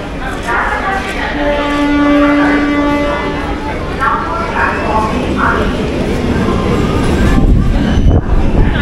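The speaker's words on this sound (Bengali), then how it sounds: "সোদপুর স্টেশনের 1 নম্বর প্ল্যাটফর্মে এলো কল্যাণী সীমান্ত লোকাল।" A Kalyani Simanta local train pulls into platform 1 at Sodepur station, its loud rumble and rattle filling the platform while horn-like tones sound early on and voices carry through the noise.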